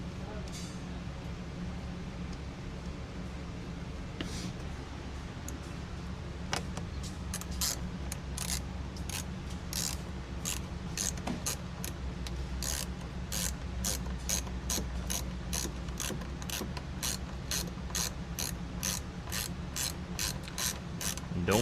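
A ratchet tightens bolts on a metal top being installed on a Polaris Ranger 1000 Northstar, giving rapid repeated clicking bursts close by over a low steady hum that picks up and keeps going.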